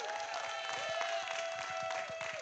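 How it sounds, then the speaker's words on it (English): An audience at a Montgomery County political event applauds its speakers, a steady, fairly faint patter of many hands clapping with a sustained tone running beneath. "Let's give all of our speakers a big round of applause."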